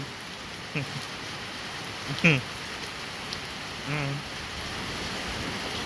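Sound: rain falling

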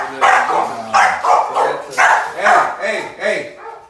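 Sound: merle puppy barking

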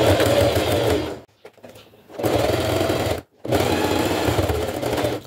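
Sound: sewing machine stitching a fabric toiletry bag

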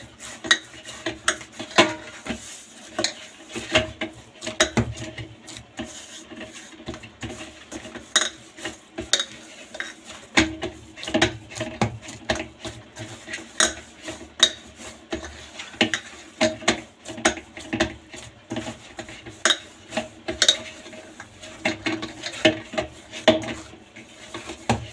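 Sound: kneading and punching bathua paratha dough

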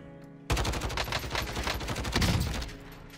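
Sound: gunfire in Call of Duty Modern Warfare video game

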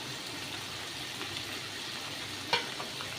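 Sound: potatoes and eggplant frying in oil

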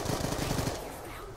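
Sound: AK-47 gunfire in video game Black Ops 2 Zombies

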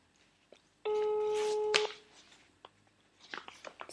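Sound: telephone call tone while redialing

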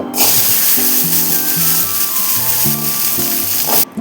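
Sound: onions frying in hot oil in a pan

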